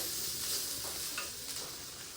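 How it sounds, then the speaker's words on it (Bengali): Food frying in a pan of potatoes, cauliflower and peas while being stirred, a steady soft sizzle with faint scraping, close and continuous without talk. "এখন আমি রান্না করছি"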